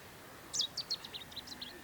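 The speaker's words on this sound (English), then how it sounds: "That was the chetties warbler. That insanely loud warble." A Cetti's warbler sings a short burst of loud, sharp chirping notes in a quick descending series, ringing out over a faint outdoor background.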